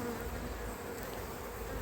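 Honeybees buzz densely around a brood frame lifted from a hive in autumn, a steady close drone filling the whole moment without any voices.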